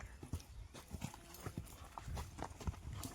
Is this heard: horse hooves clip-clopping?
yes